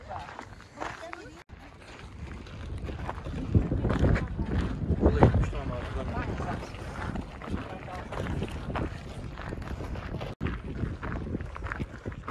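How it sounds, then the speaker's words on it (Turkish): Wind buffets an outdoor microphone on a Munich city tour, a loud continuous rumble and roar that swells and dips for about twelve seconds, with a voice faintly beneath. "Rüzgar çıktı."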